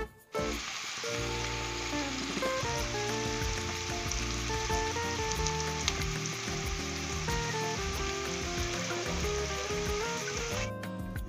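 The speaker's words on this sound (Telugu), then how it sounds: "అలా మగ్గనిస్తే మనకి చిక్కుడుకాయ ముక్కలు కూడా ఆయిల్లో మంచిగా ఫ్రై అవుతాయి." Pieces of broad bean sizzle steadily in hot oil for a curry, a continuous bright frying hiss mixed with background music that carries through the whole stretch.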